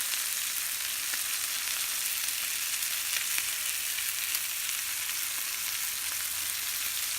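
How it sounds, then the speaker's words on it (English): Marinated quail fries in coconut oil in a pan with a loud, steady, even sizzle that holds unbroken throughout, with no talking. "I have added coconut oil to this pan, and I have placed the quail in that marinated quail."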